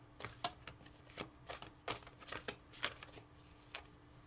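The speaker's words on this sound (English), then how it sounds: "I'm just going to shuffle gently here" Tarot cards are shuffled gently by hand, a quiet, close series of soft riffling flicks and slaps in an uneven rhythm, about a dozen brief bursts with no talking.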